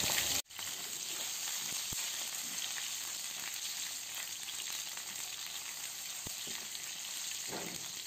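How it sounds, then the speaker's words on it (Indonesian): Bird's eye chilies and curly red chilies fry in hot oil, a steady dense sizzle running continuously at close range after a brief drop at the start, with a few faint clinks of a utensil. "Selanjutnya kita akan menggoreng cabai rawit dan cabai merah keriting hingga layu dan matang."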